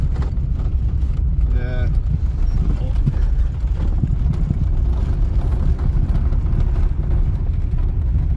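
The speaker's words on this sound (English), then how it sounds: "So yes, we are going off-roading in a Lada Samara." Lada Samara grinding off-road up a rough hill track, a steady loud engine drone mixed with wind buffeting and rattles throughout, with no speech over it.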